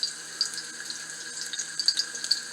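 Liquid poured into a stir-fry pan for homemade chicken stir fry: a steady, close hissing pour with faint splashy flickers, running continuously throughout.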